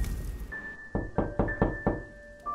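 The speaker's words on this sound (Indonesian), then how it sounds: "Sebuah ketukan terdengar di pintu pada tengah hari." Several hollow knocks on a door, about five evenly spaced raps at midday, fairly close and clear, with a steady faint tone running underneath and no talking.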